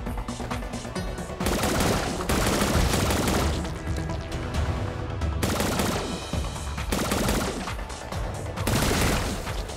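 Gunfire in the Zombotron video game, dense bursts of rapid shots in long sustained volleys separated by brief pauses, loud and close throughout with no voices.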